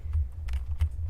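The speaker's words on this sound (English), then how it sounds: "Oh, sorry, you're still typing." Quick keystrokes on a computer keyboard, a few soft close taps over a low background hum.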